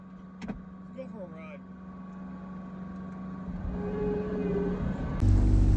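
A skid steer moving rock for a soakage trench on a lot makes a low engine rumble that builds steadily, then jumps to a loud, heavy roar near the end.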